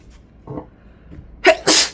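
A single sharp sneeze close up, preceded by a brief quiet intake of breath, loud and sudden.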